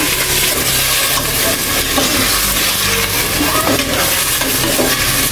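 Garlic and shrimp are stirred in a hot frying pan, giving a steady, close sizzle and hiss. A utensil scrapes and clinks against the pan now and then.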